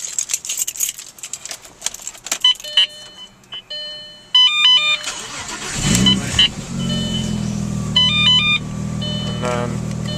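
A car engine cranks and catches, then settles into a steady idle, after several electronic beeps and a jangle of keys. A person speaks during the first half.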